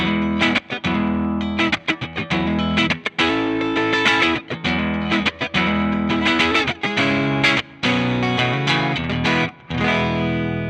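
Electric guitar played through a Torpedo Captor X with a blackface amp tone, a continuous strummed and picked passage with chorus and light distortion, loud and alone with brief pauses.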